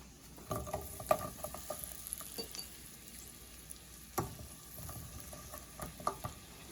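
A mixture hitting frying garlic in a pan, a quiet close sizzle punctuated by sharp utensil taps and stirring scrapes at irregular intervals.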